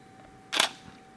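A single quick camera shutter click at a fast shutter speed, sharp and close, standing alone against a quiet background.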